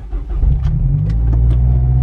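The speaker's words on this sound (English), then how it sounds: "Nice little cold start." Car engine on a cold start, rumbling loud and close at a steady idle after a brief catch, with no talk.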